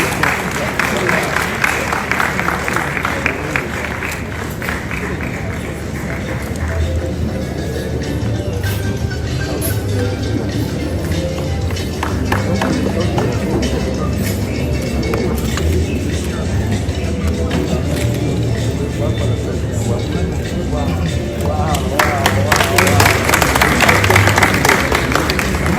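Sustained crowd applause fills a royal ceremony honoring Otumfuo Osei Tutu II, steady and dense for about 26 seconds and swelling louder near the end, with voices and background noise mixed in.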